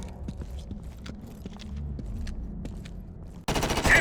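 Gunfire in the video game Homefront: The Revolution, a faint scatter of distant shots under low ambient noise, followed by a sudden loud, close burst of rapid fire at the end.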